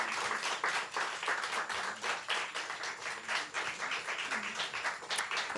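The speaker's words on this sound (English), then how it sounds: "round of applause to all our poets" An audience claps for poets at a book celebration reading, a dense, steady burst of applause that holds strong throughout without fading.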